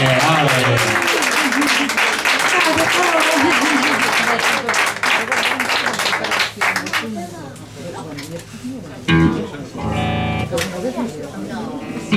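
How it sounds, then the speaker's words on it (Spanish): A concert audience at an outdoor terrace applauds singer Noela of Noe Black & The Bang Band, dense clapping and crowd noise alongside a voice and band sounds, fading before the music starts. "Un aplauso para Noela, hombre, a ver."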